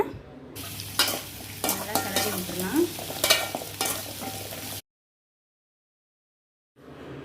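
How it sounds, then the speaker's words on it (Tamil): A spoon scrapes and stirs sweet potato with salt and turmeric sizzling in a hot pan, with clattering movements over steady frying, then a brief silence before the sizzle returns. "நல்லா வதக்கி விடுங்க நல்லா ஒரு கிண்டு கிண்ணதும்"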